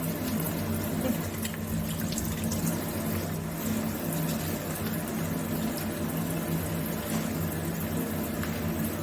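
A tap runs steadily into a sink during hand washing after cleaning squid ink, a close, continuous splashing flow at even loudness with no one speaking.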